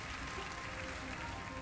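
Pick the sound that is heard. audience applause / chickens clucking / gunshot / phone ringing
audience applause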